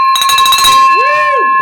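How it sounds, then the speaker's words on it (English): A bright bell rings loudly with sustained ringing tones, followed by a rising and falling whoop of a voice or cheer over the lingering ring. "Ring the bell."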